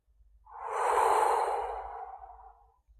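A single slow, deep breath during a yoga session, a soft airy inhale-exhale swelling and fading over a few seconds, close and quiet with no talking.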